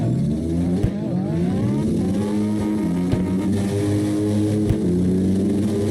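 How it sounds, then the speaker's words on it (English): Three cars drifting in tandem in CarX Drift Racing Online on the Navaro Base A map, engines wailing loud and steady with rising and falling pitch sweeps and a few sharp clicks, no talk. "We're wrapping it up with a nice 3-car tandem right here."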